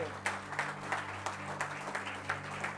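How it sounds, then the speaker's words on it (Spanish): A church congregation applauds during a sermon, a steady patter of many hands clapping at moderate distance over a low hum, with sharper claps recurring about every third of a second. "Dale un aplauso a ese Dios que nos amó."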